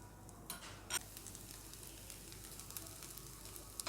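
A masala dosa made with flattened rice and semolina sizzles faintly in oil on a pan over high flame, a soft continuous crackle with a few small clicks.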